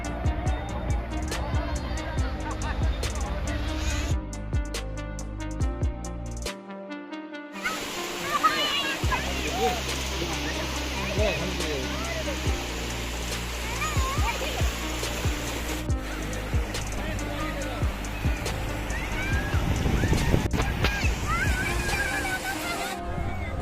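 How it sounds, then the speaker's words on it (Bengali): Water churns and splashes steadily as people bathe in the surf at Bakkhali beach, with waves washing in, voices calling and chattering throughout, and one brief silent gap partway through. "অবশেষে আমরাও নেমে পড়লাম সমুদ্রে স্নান"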